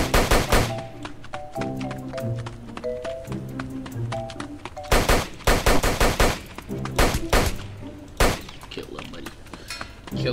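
Rapid bursts of gunfire in the Roblox game South Bronx The Trenches, sharp repeated shots in clusters mixed with short tonal game sounds and a voice talking.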